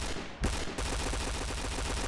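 Rapid P90 submachine gun fire in a competitive video game rattles in a fast, continuous burst after a sharp opening shot, loud and close with no speech.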